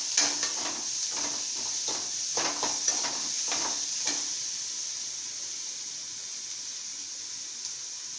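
Half a tomato sautés in a pan, giving a soft, steady sizzle. A few light scraping clicks from stirring come in the first half, then the frying settles into a faint, even hiss.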